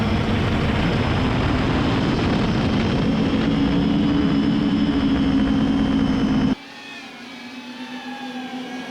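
A giant 12S Cannonball 800 X-Class racing drone flies with a loud, dense, buzzing propeller whine. The whine cuts off abruptly to a much quieter, softer hum.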